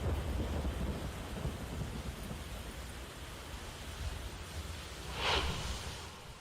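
Steady rain hissing throughout in Mumbai, broadband and dense, with a brief louder swell near the end; no voices.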